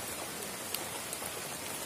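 Steady rain falls in a dense, even hiss with scattered drop patters throughout, with no voices.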